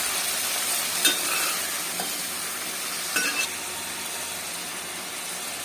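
Onion and tomato being stirred in a sizzling pan for egg curry, a steady frying hiss with a few faint scrapes of the spoon, close and even, no talking.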